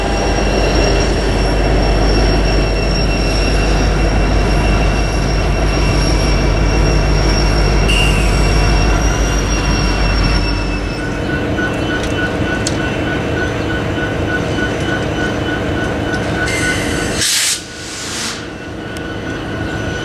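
A Union Pacific freight train shoves a long cut of cars back through a rail yard: a loud, continuous rumble of wheels with high metallic squeals and ringing tones, ending in a sudden clank.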